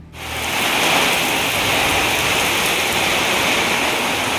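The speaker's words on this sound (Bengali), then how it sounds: "ভীষণ জোরে বৃষ্টি হচ্ছে" Heavy rain pours down in a dense, steady roar that holds at full strength throughout, close and loud with no voices.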